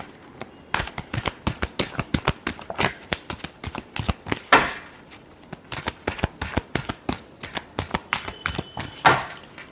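A deck of tarot cards is shuffled by hand in rapid bursts, with crisp riffling flicks and slaps repeating over and over, fairly close and steady, no voices.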